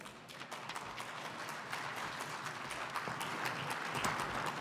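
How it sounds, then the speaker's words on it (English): A conference audience claps to welcome a speaker at a forum fireside chat, a steady, fairly soft wash of many hands that builds slightly toward the end, heard from a middle distance with no talking. "Let's give Richard a round of applause."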